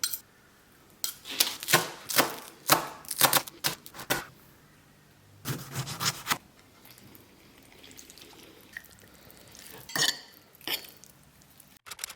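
Spring onion, cucumber, tomato and beetroot chopped on a board, bursts of quick sharp knife taps in rapid runs with pauses between, close and clear with no talking.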